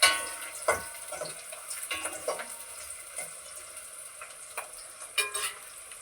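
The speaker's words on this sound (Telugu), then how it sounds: "ఆనియన్స్ బాగా ఫ్రై అయ్యాయండి." Onions sizzle in a hot pan for tomato pulao, a steady close crackling hiss broken by a few louder pops and stirring scrapes.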